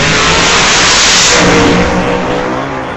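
Old-time drag race launch of a supercharged Acadian and a white Pontiac, a loud, close, continuous roar of racing engines at full throttle that eases slightly as the cars pull away.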